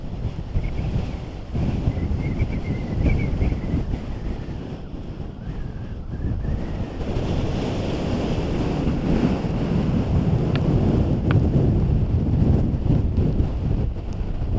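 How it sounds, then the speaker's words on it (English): Strong wind roars and buffets the microphone during a ride on a CRF250 motorbike in the South Australian outback hills, with loud continuous gusting throughout and no one speaking. "This is incredible, this wind."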